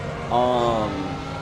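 A 2017 Porsche 911 RSR race car in a racing game revs at Virginia International Raceway, a steady harmonic engine tone rising briefly, loud and close, with a voice speaking underneath.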